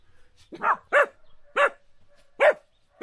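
Four sharp dog barks from dogs across a river ring out in a steady, evenly spaced series, clear and fairly close, with quiet gaps between them and no talking.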